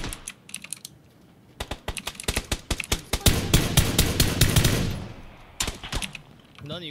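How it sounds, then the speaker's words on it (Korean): Rapid bursts of automatic gunfire in the shooter game PUBG, with loud clustered volleys of shots and a denser sustained stretch in the middle, followed by a few more scattered shots. "뭐야 총소리가 저기서도 나는데?"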